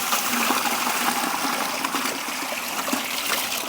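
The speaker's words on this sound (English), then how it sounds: "That's super easy to rinse out there." Water pours and splashes steadily as a new gold sluice is rinsed out outdoors, a loud, continuous close-up rush with no talking.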